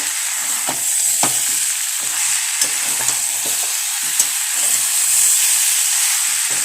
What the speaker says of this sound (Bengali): তবে কিন্তু ভালো করে এটা কষিয়ে নেবো